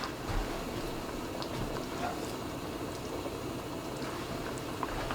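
Pasta soup simmering in a pot on the stove, a steady low bubbling hiss that holds evenly for several seconds with no talk over it.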